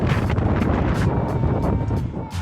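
Gusts of wind buffet the microphone during a hill climb in a neighborhood, in rough, low rumbling bursts, loud and close, with no voices.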